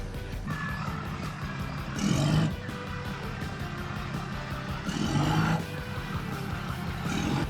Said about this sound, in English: The RV is cutting off.